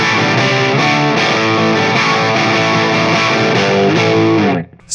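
An electric guitar plays through a Dr. Z Maz 18 or Magnatone Varsity Reverb amp with harmonic tremolo, delay and reverb, loud sustained chords throbbing steadily for several seconds before cutting off abruptly.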